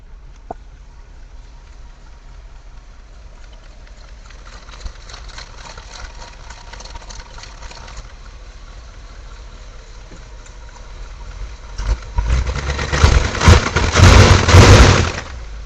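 A 1970 Chevy K5 Blazer engine idles steadily after a cold start with a low, rumbling drone, then grows noticeably louder and rougher in the final few seconds. No one speaks.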